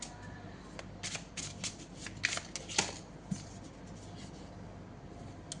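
Tarot cards shuffled by hand at a table, a steady run of soft riffling and papery flicks with a few sharper snaps, close and fairly quiet with a low hum underneath.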